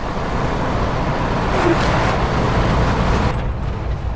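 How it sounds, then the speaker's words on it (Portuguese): Heavy roadway rumble rolls on steadily as trucks pass along a road near Charqueadas in Rio Grande do Sul. The noise is loud and continuous, rising briefly as a vehicle goes by, with no voices. "Dá-lhe caminhão pra esses lados, hein?"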